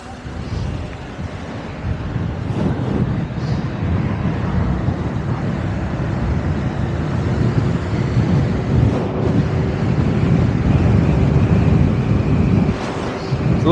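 Heavy wind buffets the microphone of a rider on an electric unicycle outdoors, a loud continuous low roar filling the entire clip with gusty rumble and no clear talk.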